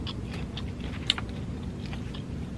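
Close, faint crunching from someone chewing spicy battered fish from Captain D's, soft irregular bites with one sharper crunch, over low background rumble and no speech.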